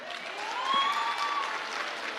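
Steady audience applause in a hall during a talk on dating and relationships, a continuous even patter of many hands at moderate distance, with a faint tonal ring over it.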